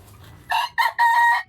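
A bully gamecock crows nearby, a loud, clear call in three bursts, the last one long and sustained.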